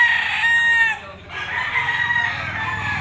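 A Gilmore line gamecock rooster of the EJ line crows loudly and close by at a Lipa auction market. One strong crow is followed by a brief dip, then a second drawn-out crow.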